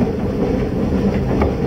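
Train passing on a railway by a beach, a steady loud rumbling roar with faint rhythmic clatter, close and continuous throughout.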